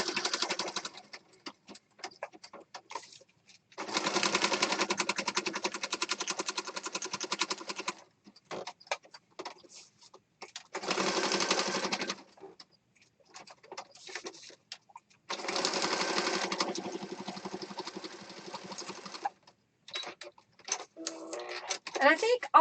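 A sewing machine stitches along the edge of a mixed media piece in three separate bursts of buzzing needle action, with scattered clicks and handling sounds in the quieter gaps between them.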